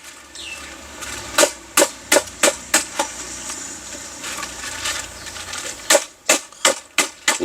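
Chicken pieces for a grilled chicken marinade are pounded in sharp, rhythmic blows, close and crisp, falling in two runs of about eight strikes each with a short pause between them.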